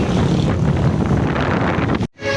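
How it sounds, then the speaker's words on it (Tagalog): Strong wind roars loudly and continuously, buffeting the microphone with a heavy rumble, briefly dropping out just before the end. "Tignan nyo, ang lakas ng hangin"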